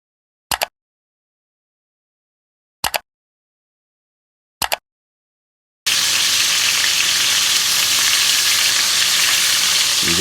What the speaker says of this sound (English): We're gonna add our chicken pieces now. Gonna fry these for about 5 or so minutes per side, or until it's entirely golden brown.